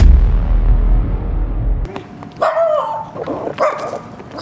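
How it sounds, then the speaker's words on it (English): A dog at a party gives a few sharp, close barks and yips in quick succession after a burst of low rumbling noise, loud and alone without talk. "Catch his dog right now."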